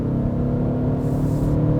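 Steady engine drone from a 2021 Audi S6 with a 3-liter turbocharged diesel, heard from inside the car as a continuous low rumble and whir while cruising, with no voices.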